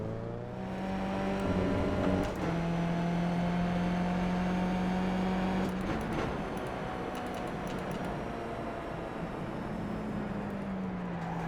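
A race car engine in the iRacing simulator is pushed past its limit, holding a loud sustained high-revving drone with a brief dip around a shift midway before droning on steadily.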